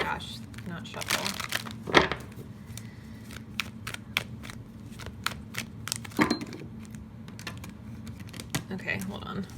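Tarot cards being shuffled close by: irregular papery riffles and flicks with crisp snaps, spread through the stretch over a low steady background, with a voice speaking intermittently.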